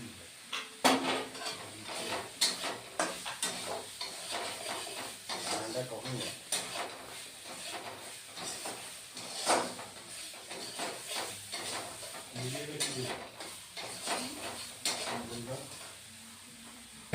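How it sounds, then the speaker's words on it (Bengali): Dried fish tipped into a pan of fried spices for a fish dish with Malabar spinach seeds, giving a steady sizzle under repeated clanks and scrapes of a spoon stirring against the pan, close and fairly loud throughout. "মশলা কষা হয়ে গেছে এখন শুটকিগুলি দিয়ে দিচ্ছি"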